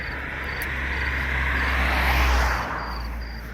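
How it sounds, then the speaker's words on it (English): Distant crickets chirp in short, faint pulses over a steady traffic drone that swells and fades as a vehicle passes, in an early-morning setting along a walking route. "the crickets are just chirping there in the distance"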